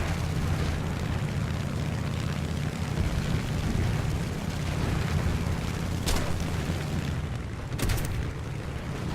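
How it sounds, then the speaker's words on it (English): War Thunder P-400 fighter going down under cannon fire in an air battle: a steady loud roar of engine and rumbling explosions fills the whole span, with two sharp bursts near the end and no talk. "Between him and some support fire from his wingman, the P-400 loses control and goes down"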